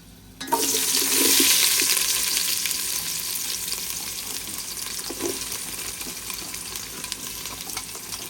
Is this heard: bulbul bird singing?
no